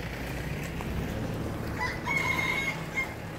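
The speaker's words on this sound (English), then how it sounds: "Even got some chickens and roosters." A rooster crows faintly in the distance over a rumbling outdoor street background in Phnom Penh, Cambodia, one drawn-out call.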